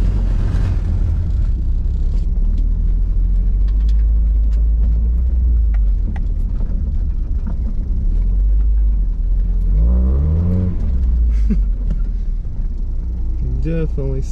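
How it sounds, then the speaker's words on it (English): A lifted Mazda Miata drives with its front tire scrubbing. A loud, close engine and road rumble runs throughout, with a brief rise in revs partway through. "the front tire scrubbed really bad"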